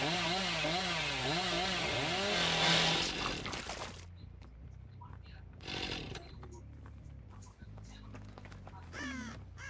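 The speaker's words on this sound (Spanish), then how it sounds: "Vamos a activar la motosierra." A chainsaw revs in the horror video game Dead by Daylight, a loud wavering whine rising and falling for several seconds before cutting off, followed by quieter game noises and later short bursts.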